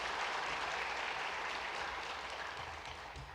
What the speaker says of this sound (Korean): 자리에서 일어나시면 큰 박수로 환영하겠습니다